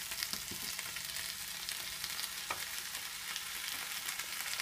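Mushroom gravy masala with turmeric, chilli powder and salt sizzles steadily as it is sautéed in a pan, a constant close frying hiss broken by a few soft spoon taps and stirring scrapes.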